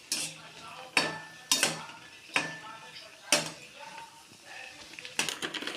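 Pani puri frying in hot coconut oil is stirred with a metal utensil, giving sharp clinks and scrapes against the pan at irregular intervals over a faint bubbling, close up.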